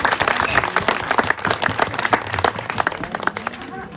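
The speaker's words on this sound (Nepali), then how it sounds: "एकचोटि जोरदार तालीले एकचोटि धन्यवाद" An audience claps at a community event, a dense burst of applause that stays fairly loud and even for a few seconds before starting to thin out toward the end.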